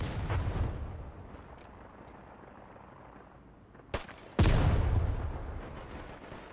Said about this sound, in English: shoot the mines from a distance to detonate them